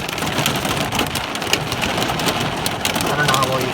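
Rain and hail beat on a car hood in a heavy thunderstorm, a close, unbroken roar of patter with sharper hailstone ticks; a voice speaks briefly underneath.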